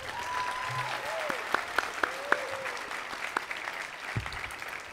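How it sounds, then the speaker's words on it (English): An audience at a graduation celebration applauds steadily in a large room, a dense wash of clapping with a few sharper individual claps rising above it and no talk. "Let's give them a big round of applause,"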